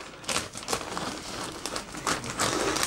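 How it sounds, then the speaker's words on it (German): Plastic bag of frozen fries being cut open and handled up close, with loud crisp crinkling and rustling in irregular bursts throughout. "Schneiden wir die Pommes einmal auf."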